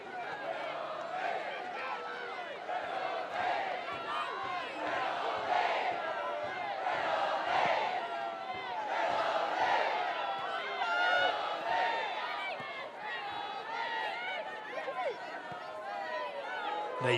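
Crowd noise fills a football stadium during a women's FA Cup fourth-round match between Arsenal and Bristol City, a dense continuous roar of chanting and shouting that swells and ebbs, with a commentator talking over it.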